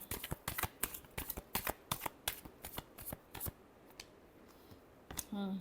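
Tarot cards are shuffled in quick bursts of crisp riffling and slapping, followed by a short lull and a brief voice at the very end.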